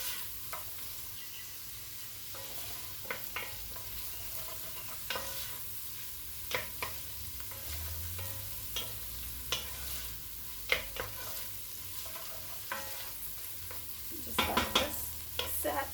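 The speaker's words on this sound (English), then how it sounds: "I like to scrape the bottom, the little brown bits." Spatula scraping browned bits from a pan bottom while onions and steak drippings sizzle for gravy, a steady frying hiss broken by scattered scrapes and clinks close by, a louder burst of scraping near the end.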